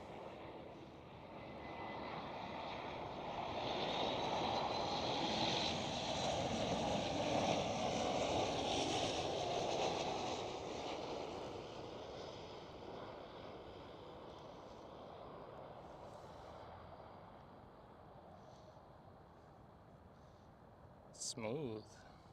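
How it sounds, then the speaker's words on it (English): A TUI Boeing 737 Max 8 at Amsterdam Schiphol roars past, its engine noise swelling then fading away over several seconds, followed by quiet outdoor ambience and a brief sharp noise near the end. "Right here, TUI Max 8"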